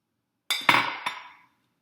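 A utensil beating egg yolk with a teaspoon of vinegar in a bowl, alongside vegetable oil, gives three quick, bright clinks against the bowl in about half a second, close and fairly loud, each ringing briefly before fading to silence.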